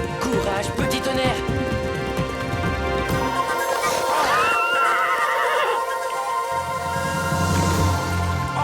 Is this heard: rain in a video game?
no